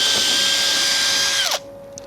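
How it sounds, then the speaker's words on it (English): A loud, steady power drill whine running close up while pre-drilling a board, then winding down abruptly and stopping, leaving a faint hum. "when I'm pre-drilling it, I'm not pre-drilling it perfectly in line with the other screw"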